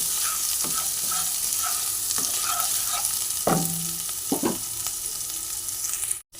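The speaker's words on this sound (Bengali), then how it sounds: "এইবার আমি পেস্টটাকে দিয়ে দিলাম, দিয়ে ভালো করে নাড়িয়ে নিতে হবে।" Ginger paste is stirred into spices frying in a pan for a vegetarian Bengali potato and cauliflower curry, giving a constant sizzle with a few louder scrapes of the spoon before a sudden stop.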